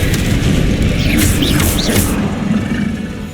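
Confringo fire spell explosion in Hogwarts Legacy, a loud booming blast with rumbling low end that fades slightly toward the end, with a voice briefly heard in the middle.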